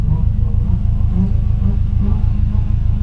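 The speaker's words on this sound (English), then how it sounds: "I literally have a Dodge Dart that's revving at me right now" A Dodge Dart engine rumbles with a steady low throb nearby, a continuous loud drone filling the brief moment.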